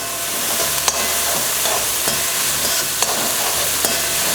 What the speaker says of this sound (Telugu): కాబట్టి హై ఫ్లేమ్లో పెట్టి ఇలా వేసేసుకోవాలి.